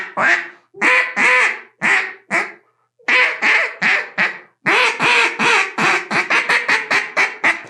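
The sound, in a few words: duck call being blown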